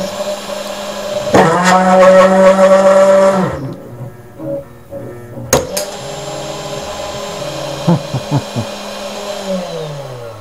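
A DIY CNC machine milling aluminum held down with CA glue and tape, a loud tonal whine for a couple of seconds that cuts off abruptly, followed by quieter mechanical clunks and renewed motor hum.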